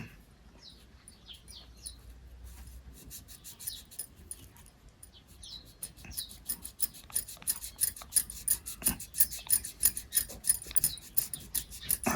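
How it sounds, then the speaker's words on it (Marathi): A blade cuts through saree tassel thread while the tassels are being made, producing a fast run of crisp snipping strokes that grows louder and more regular toward the end, with faint bird chirps in the background early on. "आता रेळ आपल्याला ब्लेडनी कापून घ्यायचं आहे त्याला."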